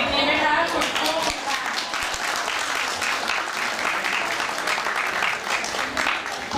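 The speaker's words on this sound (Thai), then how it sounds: "จะปรบมืออีกทีไหมคะคุณกุ้ง" An audience at a Buddhist temple thank-you ceremony claps steadily, a sustained patter of many hands with a voice speaking over it.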